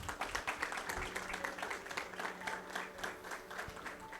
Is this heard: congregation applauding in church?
yes